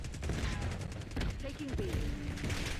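Gunfire in a Call of Duty: Black Ops 6 match on Nuketown, a steady barrage of rapid shots and bursts at moderate loudness under faint in-game radio chatter and voices.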